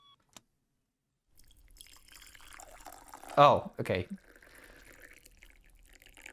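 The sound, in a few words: water pouring from a teapot in a video game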